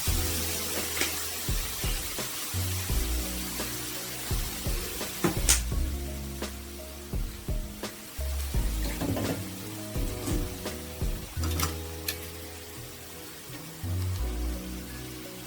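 Water goes into ground masala frying over low gas in a pan, making an uneven sizzle and bubbling with bursts of spattering. The close kitchen sound is heard without talk.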